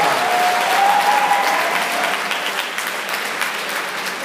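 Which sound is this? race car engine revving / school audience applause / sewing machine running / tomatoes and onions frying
school audience applause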